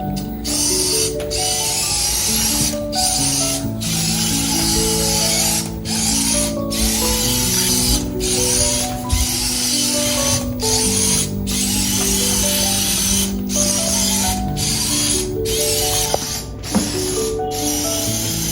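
A small homemade humanoid robot roams in obstacle-avoiding mode, its servos giving a steady mechanical whir with clicking, ratchet-like ticks and shifting motor tones, fairly close and continuous with no talking.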